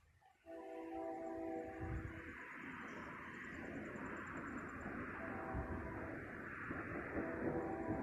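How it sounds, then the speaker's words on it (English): A train passes near a house in Belleville, Michigan during a severe thunderstorm, a steady rumbling roll with a long, sustained horn blast over it at moderate distance. "And yes, that's a train going by my house."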